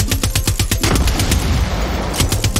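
Rapid gunfire from a shotgun in the video game Far Cry 6, a quick run of loud, close blasts in the first second followed by a denser burst of shots and rumbling booms.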